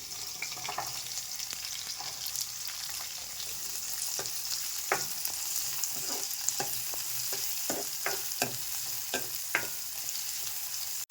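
Onions and garlic frying in a home pan, a steady sizzle broken by a run of sharp scraping stirs that come irregularly from the middle of the clip onward, close and moderately loud with no talking.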